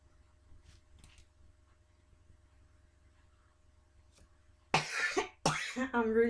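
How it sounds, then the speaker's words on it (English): A woman coughs at the end after a quiet stretch, a few harsh, close bursts that follow one another quickly, with a brief pause between them. "The more I want not to cough, the more I do cough."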